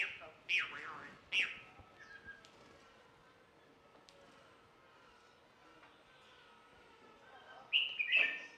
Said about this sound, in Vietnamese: Em này là em uh, chim khuyên. Vành khuyên.